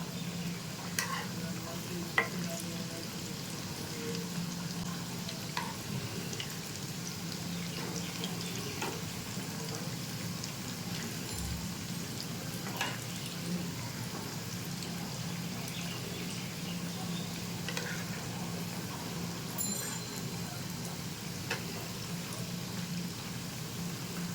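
Layered maida flatbread shallow-frying in a pan over low heat, giving a soft, steady sizzle with occasional faint clicks and stirring noises throughout, heard alone without talk.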